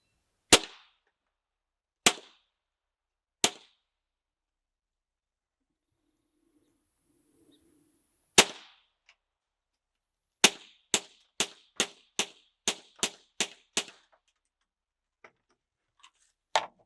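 Suppressed .22 rifle shots through a Next Level Armament NLS 22 Varmint suppressor: three spaced, sharp cracks, then a quick string of about eight more in steady rhythm, close and alone in near silence.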